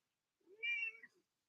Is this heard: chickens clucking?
no